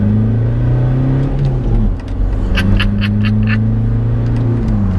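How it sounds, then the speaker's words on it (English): A VW Caddy short-wheelbase van with an R32 rear twin exhaust accelerates hard in second gear, the engine note rising steadily with a brief dip at a shift-like pause, loud and close with a rasping exhaust tone. "Do a little second gear pull."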